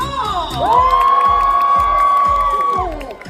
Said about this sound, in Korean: 큰 박수와 함성을 질러주세요